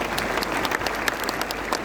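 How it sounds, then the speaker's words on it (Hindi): Steady, dense applause from a seminar audience at a leadership program in Delhi, many hands clapping continuously and fairly loud with no voices over it. "अगर मेरी बात समझ आती है तो अब आप ताली बजा सकते हैं।"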